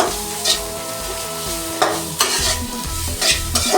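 Chicken for spicy chilli chicken fries with a steady sizzle in a wide pan, while a utensil scrapes and stirs in several loud, irregular strokes; no voices.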